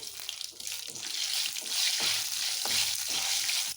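Cashews fry in hot ghee with mustard seeds for a tempering, a loud continuous close sizzle with faint crackles and stirring scrapes running through it.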